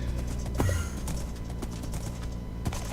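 In the Minecraft video game, a horse's hooves clop in quick, light, clicky steps at a fairly steady pace, up close and with no talk over them.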